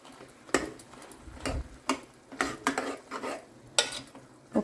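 Cooked lentils (dal) being stirred in a pot, with a string of distinct scraping and clinking spoon strokes against metal at an uneven rhythm, close and moderately loud, with no talking.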